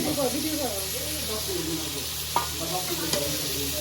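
Duck being stirred in a heavy kadai at an outdoor picnic cookout, a steady sizzle and hiss with a couple of sharp knocks of the spoon against the metal. Voices talk over it throughout.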